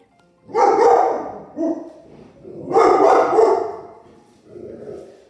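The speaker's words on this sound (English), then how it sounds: "That's my dog, Bo." A dog barks indoors in two loud bursts with a short yip between, then a softer bark at the end, close by and alone.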